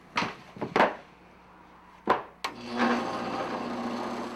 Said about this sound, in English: I'm cutting it up and making it smaller and smaller.